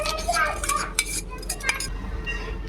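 Ground chili and cumin paste scraped out of a grinder jar into a bowl in a home kitchen for kadhi pakoda, giving close, scattered metallic scrapes and light clinks over a low steady background hum.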